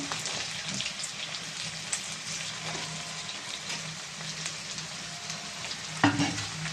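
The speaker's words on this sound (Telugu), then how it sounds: "ఇప్పుడు దీంట్లో మనం కట్ చేసుకున్న వంకాయ ముక్కలు వేసేద్దాం ఫ్రెండ్స్. వంకాయలు కూడా బాగా ఫ్రై అవ్వాలండి." Cut brinjal pieces fry with onions in a pan, making a soft, continuous sizzle and crackle with light stirring. A brief louder clatter comes near the end, and nobody speaks.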